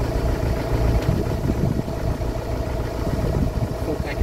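A diesel car with an automatic gearbox idles at an auction, a steady low rumble heard up close with no talk over it.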